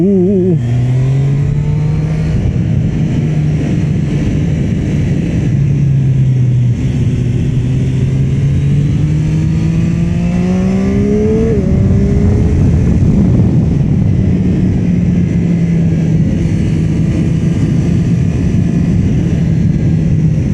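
A Triumph Street Triple 765 RX motorcycle howls around a race track, its three-cylinder engine revving up and down through gears in a loud, sustained run with rising and falling pitch and no voices.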